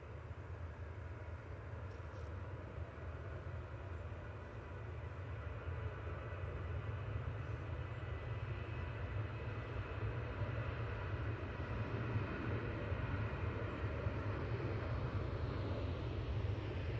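A Boeing 737-800 departing Manchester on runway 05 left, a steady distant jet roar with deep low rumble that slowly builds in loudness and holds throughout.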